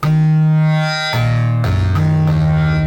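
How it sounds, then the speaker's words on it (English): A Yamaha TG77/SY77 synthesizer patch played with its doubler effect, a loud sustained tone with a thickened, slightly detuned double, shifting through a few held notes. "doubler effect, which can be cool, vintage sounding, a bit dated."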